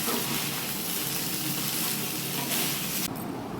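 Leftover rice stir-fries in a pan, giving a steady close sizzle with soft scraping and stirring, holding even before the hiss thins abruptly near the end.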